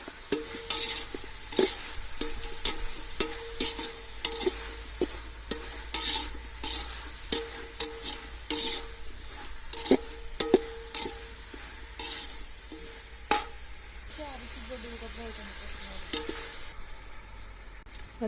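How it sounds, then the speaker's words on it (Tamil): Mushrooms and mint sautéed together for a mushroom biryani, a spoon repeatedly knocking and scraping the pot in an irregular rhythm over a low sizzle, close and clear, with a quieter stretch of frying toward the end. "அடுத்து காளானை போட்டு வதக்கிக்கோங்க."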